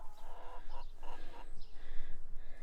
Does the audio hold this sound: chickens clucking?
yes